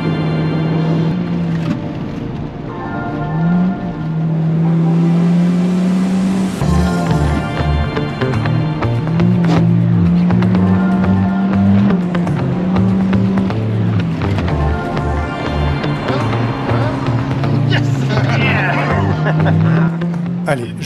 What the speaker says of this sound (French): Allez, je vous laisse apprécier un tour complet pour que vous puissiez vous faire une idée de l'adhérence.